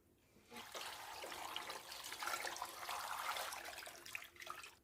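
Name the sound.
cold water poured over beef short ribs to soak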